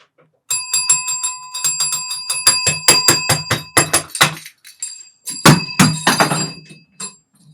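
A bell rings in rapid, jittery bursts of bright metallic strikes, a busy cluster, a short pause, then a second flurry, loud and close inside a shed, with no talk over it.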